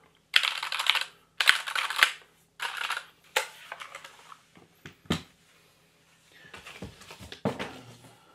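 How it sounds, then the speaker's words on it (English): Typing on a favourite computer keyboard, close and crisp: several bursts of rapid key clicks with short pauses between them, then softer, sparser taps near the end. "This is my favourite keyboard."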